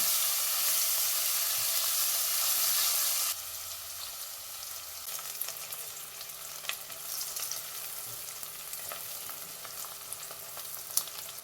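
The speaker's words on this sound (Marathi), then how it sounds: "कांदा ट्रान्सपरंट होईपर्यंत परतून घेऊया." Thinly sliced onions sauté in a pan for a spicy masale rice, starting with a loud bright sizzle that drops to a softer steady frying hiss dotted with light spatula scrapes and ticks.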